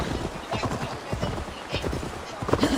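Hooves clop in a quick, uneven rhythm as a horse moves along in the video game Assassin's Creed Valhalla, moderately loud over a faint background.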